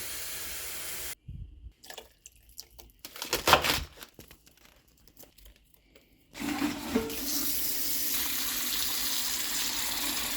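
Water runs from a kitchen tap into a pot, with crinkling handling noise and a pause before a steady, fairly loud flow resumes and continues to the end.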